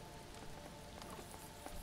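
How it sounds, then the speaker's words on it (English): Rain falling in the survival game Mr Prepper, a soft continuous patter and hiss of drops heard faintly and steadily with no voices. "Oh, rain."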